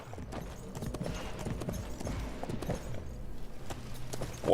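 Horse hooves clip-clop steadily at a walking pace in Sacred 2 Remaster, a fantasy role-playing video game, with faint game ambience and a brief louder sound at the very end.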